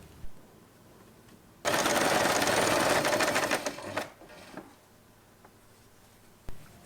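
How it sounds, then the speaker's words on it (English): A sewing machine stitches fabric for a scrunchie in one fast burst of rapid mechanical clatter lasting about two and a half seconds, followed by fainter handling of the cloth and a quiet click. "And we will sew all along the fabric."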